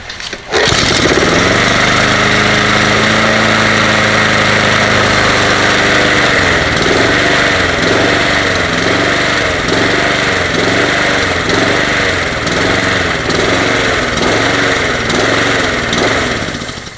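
A Toro 20782 lawn mower fitted with a swapped Honda engine runs outdoors. It starts up and then drones loudly and steadily at close range, with a rhythmic pulsing wobble in the engine note.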